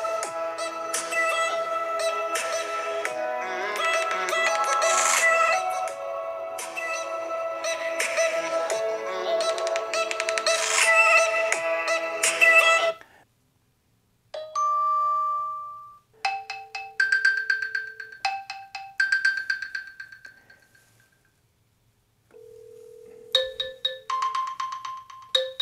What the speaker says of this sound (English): take a listen to the speaker sample.